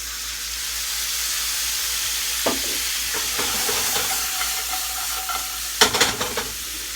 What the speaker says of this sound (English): I like to deglaze the pan with a little bit of white wine